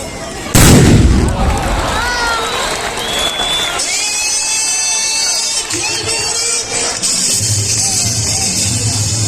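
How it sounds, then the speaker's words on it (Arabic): A gunpowder musket volley by tbourida horsemen at Mediouna bursts out as one loud, booming blast, followed by a roaring crowd, cheers and whistles that carry on to the end. "ولا اروع طلقه جميله ختاميا عند السلسله الثالثه طلقات بارود"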